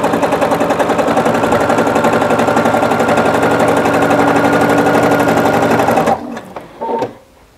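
A sewing machine stitches a fabric placemat in a fast, loud, steady mechanical chatter for about six seconds, then stops. Brief handling noises follow.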